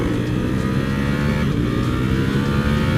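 Ducati Panigale V4 SP sport motorcycle engine under way on an open road, a dense, steady, loud mechanical roar mixed with wind buffeting, heard from the rider's position without interruption.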